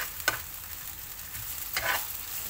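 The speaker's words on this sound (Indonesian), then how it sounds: "Ini Ama menumisnya." Spices for gulai ikan gurame sautéing in a pan, a soft steady sizzle with two brief scraping stirs of a utensil, quiet and close.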